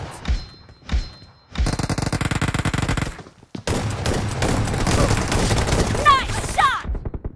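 Gunfire in a team deathmatch of PUBG Mobile: a couple of single shots, then a long rapid automatic burst, a brief gap and another sustained burst, loud and close, with short in-game voice lines over the action.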